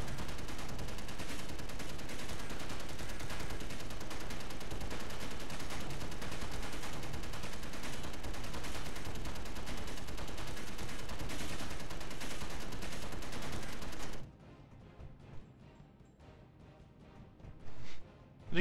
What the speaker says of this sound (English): Make a better idea of the gun damage here.